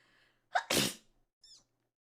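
A single sharp human sneeze, close and loud, with a quick breath intake before it and a brief small vocal sound after, otherwise quiet.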